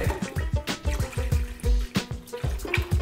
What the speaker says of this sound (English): And now it's time to add the chicken stock,